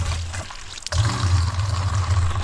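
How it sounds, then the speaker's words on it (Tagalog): Spring water from a farm in the Philippines pours close by in a short, steady gush that splashes and trickles without pause. "Lalagayan na po namin ng tubig din."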